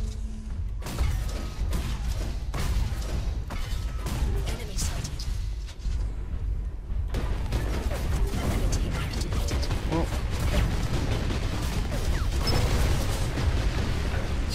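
Heavy repeated shots from the T-32 bolt weapon in the mech game Hawken, loud mechanical bangs and clanks in a rapid, uneven rhythm amid constant battle noise, with someone talking over parts of it.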